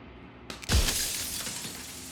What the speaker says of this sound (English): A crack slides down the center of the mirror, splitting the image in the glass in two.